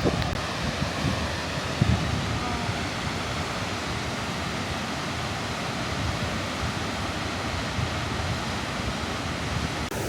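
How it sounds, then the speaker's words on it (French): A constant, heavy roar of a large waterfall in Norway fills the whole clip, dense and unbroken, heard from close by, with no voices. "on est arrivé juste devant la cascade, elle fait un bruit monstre"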